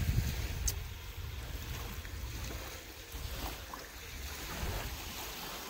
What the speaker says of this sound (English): The water is so choppy.